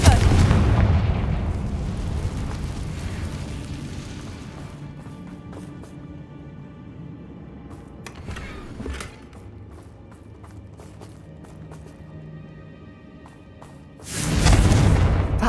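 Spell blasts from Confringo in Hogwarts Legacy, loud booming bursts at the start and again near the end, with a smaller crackling impact in the middle and rumbling game ambience between.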